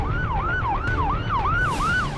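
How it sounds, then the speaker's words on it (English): Ambulance siren on the Coquihalla Highway near Merritt, BC, a rising and falling wail repeating steadily over a low traffic rumble, clear and fairly close. "Ambulance up there now."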